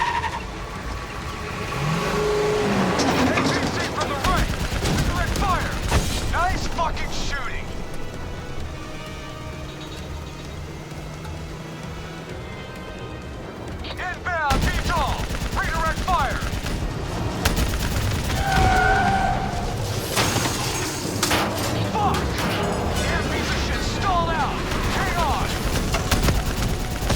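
Gunfire in Call of Duty: Black Ops 3, with rapid automatic bursts and scattered shots mixed with engine rumble and explosions, loud and continuous, with shouted voices over the battle.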